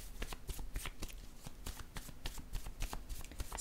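Tarot cards are shuffled by hand in quick repeated riffles and flicks, a crisp rhythmic papery slapping close up and alone, with no one talking.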